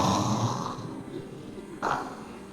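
A voice imitates snoring with a drawn-out nasal snore, a pause, then a shorter snort, close and fairly quiet.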